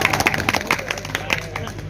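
Audience applause at a humorous Hindi-Urdu poetry recital, an All India Mushaira, comes as a dense patter of claps with sharp individual slaps. It is moderately loud and steady across the two seconds, with a voice mixed in.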